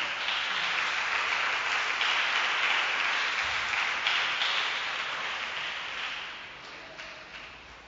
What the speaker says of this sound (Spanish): Dele aplauso al Señor en esta hermosa noche.